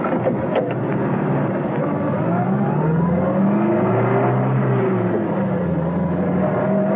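Taxi car driving through narrow town streets in an audio drama, a continuous engine drone with rising and falling revs as it accelerates, steady and moderately loud, heard alone without voices.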